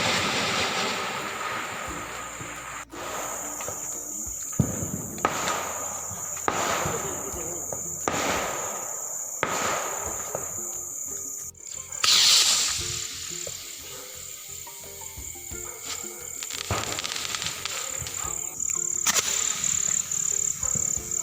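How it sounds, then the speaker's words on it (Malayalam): Firecrackers, including flower bombs, burst outdoors at a Vishu celebration: repeated sharp cracks and crackling bursts come at irregular intervals over a constant buzz of insects in the background. "പിന്നെ ഞങ്ങൾ പടക്കം പൊട്ടിക്കാൻ തുടങ്ങി."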